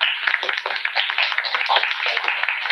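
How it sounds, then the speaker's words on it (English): A small audience claps for a panel. The patter of hands is dense and moderately loud, and a voice can be heard faintly underneath. "So if you could just give them a lovely round of applause"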